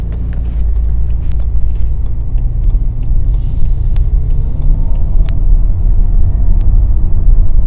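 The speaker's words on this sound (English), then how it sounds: "in automatic mode, 1st setting, pulling away in 2nd gear" A BMW M5 with an SMG III automated gearbox pulls away in second gear in automatic mode. Its engine rumbles loud and steady at close range, with no talk.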